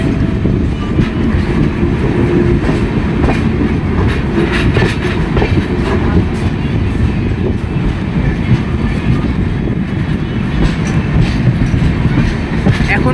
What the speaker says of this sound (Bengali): এখন আমাদের ট্রেন অ্যারাইভ করছে ভুবনেশ্বরে